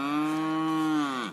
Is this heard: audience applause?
no